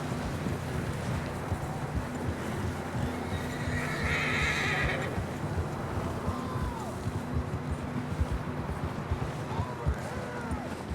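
In the video game Red Dead Redemption 2, a horse whinnies amid a wind-blown outdoor ambience, with the muffled thud of hooves and a few voices underneath.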